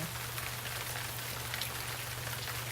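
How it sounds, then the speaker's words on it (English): Steady rain falling in a Thomas the Tank Engine episode, a continuous even hiss of drops with a low steady hum beneath, with no voices. "But then it began to rain. It rained for days and days."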